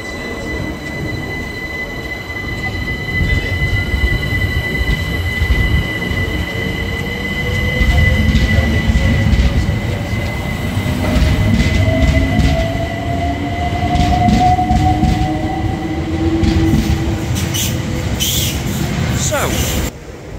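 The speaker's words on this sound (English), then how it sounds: "we're going to let this train behind me leave" A London Overground train rumbles steadily nearby, its wheels squealing and rising in pitch as it pulls away from the station, with a sharp clatter near the end.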